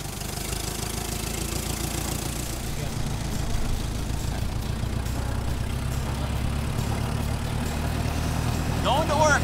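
A 1918 truck engine runs steadily at idle with a low, continuous mechanical throb and some knocking, fairly close, its level rising slightly midway, with a few brief higher-pitched sounds near the end.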